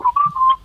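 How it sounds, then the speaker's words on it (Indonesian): A person whistles a few quick, clear notes of a tune, close and loud, lasting under a second with no talking. "Kok kayak ngeledekin ya siulnya ya?"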